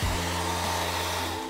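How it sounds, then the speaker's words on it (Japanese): A high-end hair dryer runs close by at full blast, a steady whooshing roar with a constant motor whine underneath. It stays even from start to end, with no voices. "ドライヤーです。"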